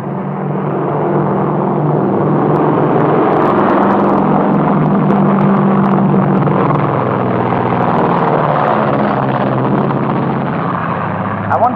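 A steady, loud propeller aircraft drone fills the whole stretch, a continuous engine rumble with no break.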